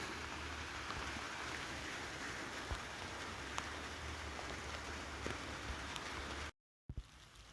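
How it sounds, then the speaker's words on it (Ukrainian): Steady rain falling outdoors at a beehive apiary, a dense continuous hiss with occasional louder drops, fairly faint and even throughout before a sudden brief cut near the end. "Вчора була гарна погода, але сьогодні дощ."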